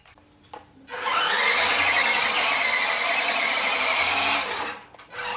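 A small electric motor whines loudly at high pitch for a few seconds, a shrill squealing drone as a 1/10-scale two-wheel-drive RC kei truck's tires spin on carpet, then winds down.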